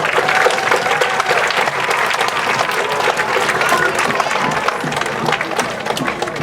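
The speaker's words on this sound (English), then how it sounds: "Let's applaud that." Dense, steady applause mixed with some cheering from a crowd gathered at an outdoor groundbreaking ceremony for new elementary schools in Fremont, sustained at full loudness throughout.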